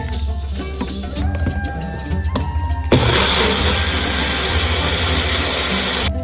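After some rattling and clicking, a blender motor kicks on and runs with a steady, loud, high whir for several seconds before cutting off, blending a chicken marinade.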